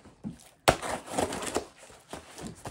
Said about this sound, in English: we'll see if my scissors are up to the job